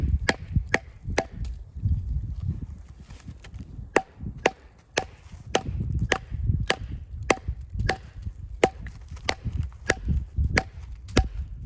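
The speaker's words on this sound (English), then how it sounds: "make a wedge and then whack on it with the blunt end of the hatchet and split it that way" The blunt end of a hatchet hammers a wedge into a large firewood log, giving a steady series of sharp, woody knocks, roughly two per second, close by with no talking.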